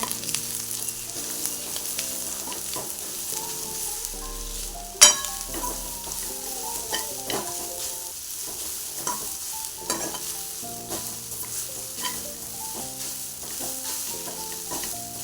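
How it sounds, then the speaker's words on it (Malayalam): A spoon stirs ground kanthari chili paste into a sizzling pumpkin and broad bean curry, with soft scraping and clinks over a steady low frying hiss and one sharper knock partway through. "നമ്മൾ അരച്ച് വെച്ചേക്കുന്ന അരപ്പ് ഇളക്കട്ടെ"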